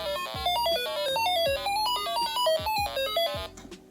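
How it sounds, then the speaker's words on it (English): A homemade electric keyboard plays a fast run of short beeping tones, each at a random pitch, hopping up and down with no melody, over a lower repeating buzzy sweep. Loud and steady, with no voices. "each time you press the key, it plays a note of a random frequency between 0 and 1000 hertz"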